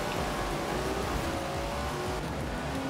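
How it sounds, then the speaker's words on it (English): Datsun engine in a Forza racing game roars steadily at high revs, a loud, dense, continuous drone with faint tire noise and no speech. "Never heard a Datsun sound like that, have you?"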